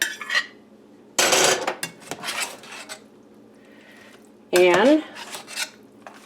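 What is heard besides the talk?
stirring noodles for a chicken casserole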